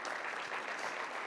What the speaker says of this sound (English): I want to give you a special round of applause for everything you and the whole team here at New York Creates does.